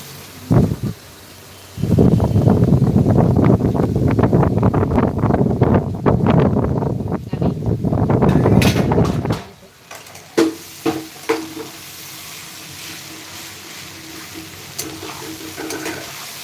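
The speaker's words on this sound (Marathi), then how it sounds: "आता यामध्ये पोहे टाकून घेत आहे" Poha tips into a hot pan with a sharp rustle, then a loud steady sizzling crackle while it is stirred, fading after about nine seconds into quieter scattered scraping and clicks.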